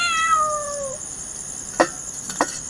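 A stray cat meowing outdoors at midnight in cold weather, one drawn-out falling meow near and clear, followed by two brief faint clicks against a steady high insect-like hum.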